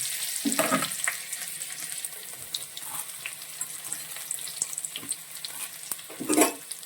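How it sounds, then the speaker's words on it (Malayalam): Onion and chilli crackle in hot oil with popped mustard seeds, a quiet uneven sizzle marked by scattered sharp pops and a louder burst near the end. "കടുക് നന്നായിട്ട് പൊട്ടി വരുമ്പോൾ അതിലേക്ക് നമ്മൾ എടുത്തു വെച്ചിരിക്കുന്ന ഉള്ളിയും അതുപോലെ തന്നെ ചോർന്ന മുളകും ചേർക്കണം"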